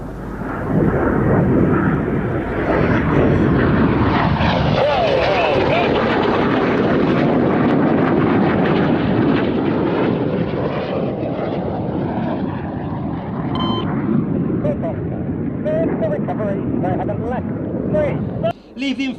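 Red Arrows jet aircraft roar past in a loud, sustained pass at an air festival display, the engine noise swelling and shifting over many seconds before cutting off near the end.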